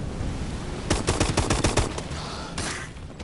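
A gun fires in a Call of Duty Zombies game, a quick burst of rapid shots followed by a couple of separate single shots, loud and close over a steady background rumble.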